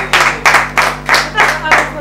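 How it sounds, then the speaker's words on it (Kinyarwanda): People clap in steady repeated bursts, about five loud close rounds over two seconds, with a steady low hum underneath and no talking. "mumunyongera umwana wanjye mumunyongera amashyi"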